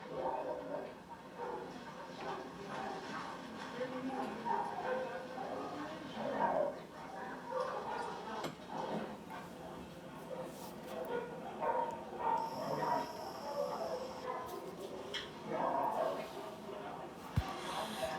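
Dogs bark on a television playing in the room, faint and muffled within a busy background of other TV sound and voices.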